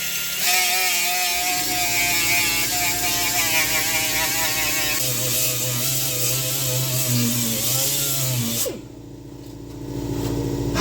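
A power tool grinds on bare metal to clean it up for welding on a Checker Marathon gasser build, a loud, steady whirring drone with shifting pitch that cuts out near the end, then quieter shop noise.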